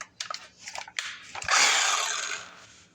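A garbage disposal water hose is cut to fit, with a few short crunching snips and handling clicks, then a longer rasping cut that tails off, close and fairly loud.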